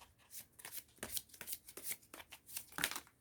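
Tarot cards being shuffled and drawn, a quick run of papery riffles and soft flicks repeating for a few seconds at close range, with no talk.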